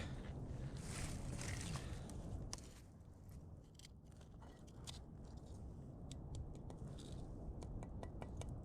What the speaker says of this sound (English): It's supposed to sound like a piece of ceramic when you tap it, which it does.